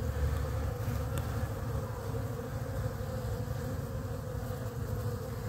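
Dense, steady buzzing of many honeybees around a hive entrance, with hornets nearby, a continuous close hum that holds throughout without voices.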